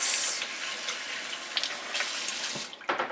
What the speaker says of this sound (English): you can just turn the water on just a little bit